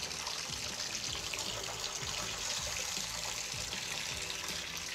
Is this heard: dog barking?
no